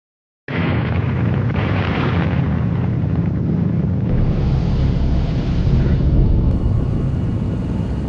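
A blast effects test explosion destroys an F-4 Phantom jet. After a moment of silence, a sudden loud detonation gives way to a heavy, sustained roaring rumble that continues for about seven seconds.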